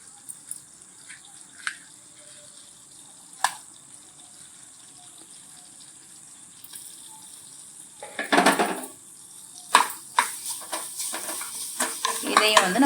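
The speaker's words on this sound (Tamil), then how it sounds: "அந்த தேங்காயை இந்த நெய்யிலே போட்டுக்கிறோம்." Grated coconut stirred into hot ghee in a pan for moong dal (paasi paruppu) halwa: quiet sizzle with occasional utensil clicks, then louder scraping and stirring bursts near the end, no talk.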